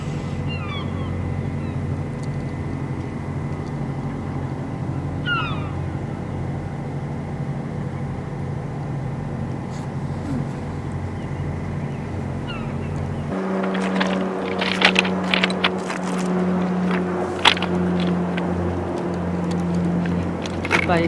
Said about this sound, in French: ce qui est le plus bruyant, c'est les petites embarcations, genre Zodiac, avec 2 moteurs qui vont super vite